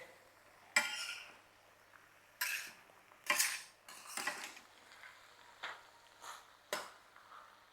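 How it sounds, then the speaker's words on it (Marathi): A series of spaced metal scrapes and clatters as a spatula stirs brinjal, beans and carrots into masala in a pan, close and fairly loud against a quiet background. "आता आपल्याला ह्याच्यात वांग पावटे आणि गाजर टाकायचं आहे व्यवस्थित आपल्याला हे परतवून घ्यायचं आहे"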